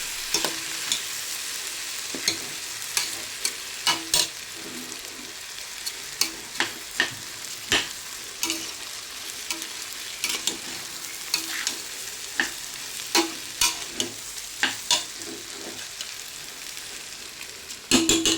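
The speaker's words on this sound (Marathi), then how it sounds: "या धुतलेल्या तांदळाला मिक्स करून घ्या. छान असं परतून घ्या." Washed rice tossed with spices in a pan: a steady sizzle broken by repeated sharp scrapes and knocks of a spoon against the pan, coming in an uneven rhythm throughout.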